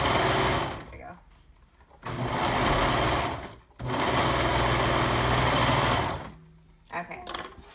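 A sewing machine runs in bursts while stitching a bodice side seam, whirring steadily in two long runs and a short one, with brief pauses and a final stuttering start, close and loud.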